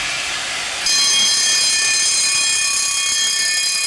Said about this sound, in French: l'agent procède à l'essai du gong d'alarme équipant les postes de contrôle sprinkler